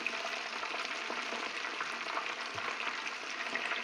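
Kentucky-style chicken pieces fry in hot oil, a continuous even crackling sizzle close by with small pops and no voices.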